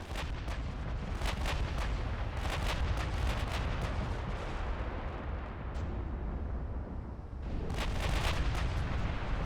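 Naval guns firing high-explosive shells in the Ultimate Admiral Dreadnoughts video game, a dense, continuous barrage of booming reports with repeated sharp blasts layered over a rumbling roar, loud and without pause.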